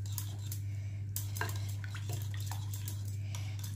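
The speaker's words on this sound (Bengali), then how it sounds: "ভালো করে এটাকে আমি মিশিয়ে নেব সুন্দর করে, স্মুথ একটা।" A spoon scrapes and clinks against a bowl while thick sour yogurt is stirred smooth, with irregular close taps and scrapes over a low steady hum.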